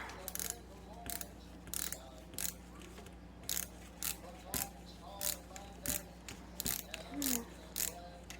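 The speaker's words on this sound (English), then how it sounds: "Now let's just unscrew a little bit longer." Parts are being unscrewed on a Singer VS2 sewing machine, with a series of close, crisp metallic clicks and ticks at uneven intervals over a low background hum, plus a brief faint squeak.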